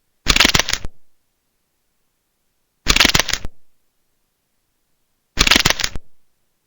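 Three separate short bursts of crisp snipping and clicking from a nail nipper cutting an ingrown nail in a doctor video game, each about half a second long and evenly spaced, with silence between them.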